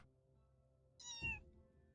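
A kitten on a kitten cam lets out a single clear, high meow midway, close and distinct against a quiet background.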